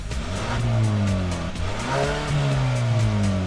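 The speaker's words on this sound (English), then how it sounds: "Rich low-end torque causes frequent tire spin." A 2017 Kia Sportage SX Turbo with a turbocharged 2-liter four-cylinder spins its tires under hard acceleration, a close, loud squeal with rising and falling engine pitch and skidding tones.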